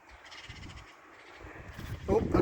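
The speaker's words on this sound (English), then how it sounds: "Magpies and crows having a battle." Magpies and crows call outside a cabin on a chilly, wet, windy autumn morning, the harsh caws growing louder and more frequent, with wind and some faint talk beneath.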